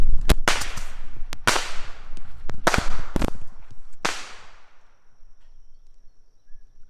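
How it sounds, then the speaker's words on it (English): Fourth of July bottle rockets lit and launched outdoors, a rapid string of loud sharp cracks and whooshing bangs over about four seconds, then fading to quiet. "Okay, we're gonna light some of these bottle rockets."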